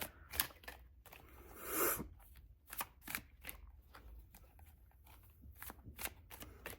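Cards being shuffled in quick riffling bursts, close up, with crisp flicking and soft taps between them; no talking.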